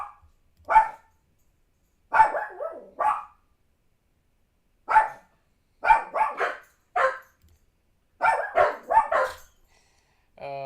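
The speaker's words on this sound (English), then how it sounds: "my dogs are gonna bark for a second," Several dogs bark indoors in short clustered bursts, fairly loud and close, with quiet gaps between the volleys over about ten seconds.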